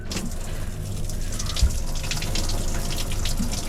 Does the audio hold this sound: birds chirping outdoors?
no